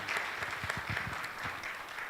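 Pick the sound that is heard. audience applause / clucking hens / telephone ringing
audience applause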